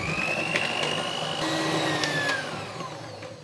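An electric mixer beats cake batter with milk in a bowl, its motor whirring loud and steady close by. The pitch rises and falls as the beaters work, and no one speaks.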